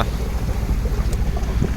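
Wind blows across a sailing boat at sea between Lithuania and Norway, a constant low rumble and buffeting of wind on the microphone with soft water wash, steady and loud, no voices.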